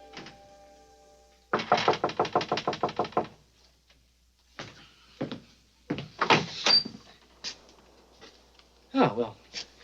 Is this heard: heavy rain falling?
no